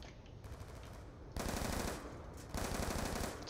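A Hemtar machine gun firing in a Call of Duty zombies match on Nuketown, long sustained automatic bursts with brief gaps, loud and steady.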